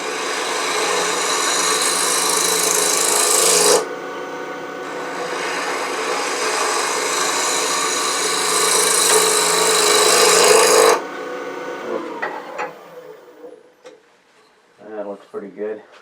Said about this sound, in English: we're going to use a 1/2-inch bowl gouge and kind of face that off a little bit